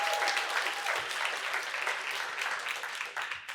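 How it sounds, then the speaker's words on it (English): Audience clapping for Saeed at a millionaires' summit, a dense, steady burst of applause filling the room from start to finish, with no speech over it. "Let's give Saeed a round of applause"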